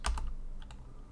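Computer keyboard typing in Python code, a few quick close keystrokes with clicks in the first moment and lighter taps after, alone without talk.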